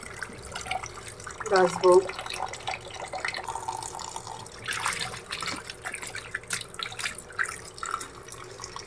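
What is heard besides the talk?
washing chopped chicken meat under running tap water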